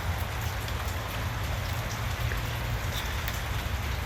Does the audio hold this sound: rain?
yes